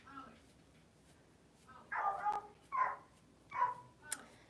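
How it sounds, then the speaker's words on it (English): Several dogs around a house barking in short bursts, four or so yaps spaced about a second apart, fairly faint and distant after a quiet stretch. "There's all these noisy dogs around my house."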